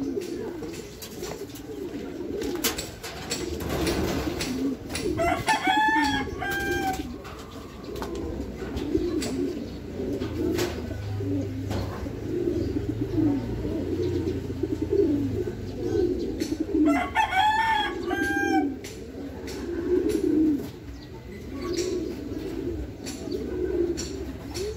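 Racing pigeons coo in a low, steady murmur throughout, with a few brief chirps breaking through and light rustling nearby.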